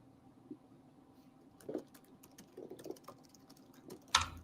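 Quiet, rapid clicking of keys being tapped in quick bursts, with a sharper knock near the end.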